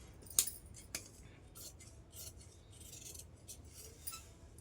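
Scissors snipping through blouse fabric, several quiet crisp cuts with the blades scraping and rasping in between, close and soft.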